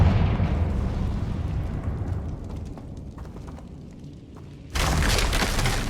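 Confringo blasting spell detonating in the video game Hogwarts Legacy: a loud rumbling blast that slowly decays with scattered debris clatter, followed by a sudden bright, noisy burst near the end.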